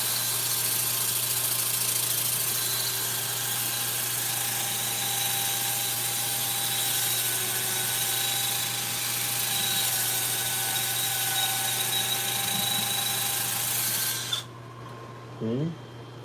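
Sandpaper rasping against the inside of a cracked wooden bowl spinning on a lathe, a steady continuous rub over the motor's hum for most of the clip before stopping abruptly near the end.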